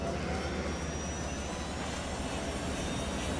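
Helicopter engine in Ghost Recon Wildlands, a steady droning whine and rushing roar held at constant loudness, close and continuous with no voices.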